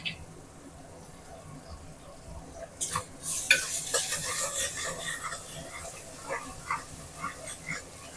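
Onions, green chillies and curry leaves drop into hot oil in a pan, setting off a moderate crackling sizzle with stirring scrapes, while a person talks in the background.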